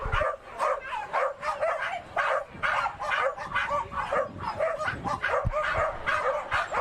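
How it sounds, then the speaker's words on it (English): Corgis bark and yip rapidly at the start line of a corgi dash race at a racetrack, a dense, excited chorus of overlapping yaps that carries on without a break. "But you can hear the barking."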